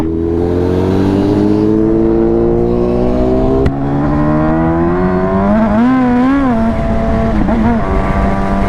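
A car with a weakened battery runs loud and close, its engine note climbing slowly and then wavering and sagging unevenly as it labors, with no speech over it.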